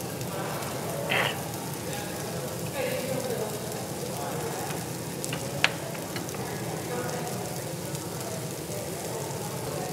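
Shrimp cooking in a hot pot at a restaurant, with a soft steady sizzle and bubbling under restaurant background noise and a few light clinks, fairly faint and continuous, as people talk nearby.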